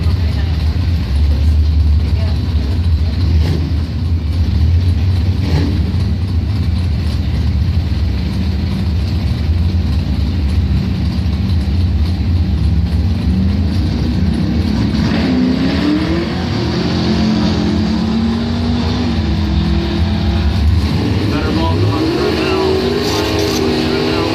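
A 1963 Ford Falcon and a 1972 Ford Maverick, doorslammer drag cars, idle and rev at a drag strip with a loud steady engine drone and rising revs near the end, while an announcer talks over the public address.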